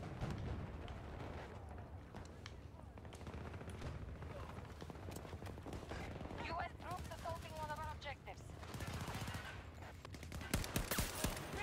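Battlefield 2042 gameplay is full of rapid gunfire and distant explosions in a constant, fairly faint battle din, with bursts of shots and a few sharper cracks near the end.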